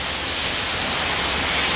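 Steady rain pours outside an automotive alignment shop, a dense, even hiss of falling water with no pauses, fairly loud and without voices.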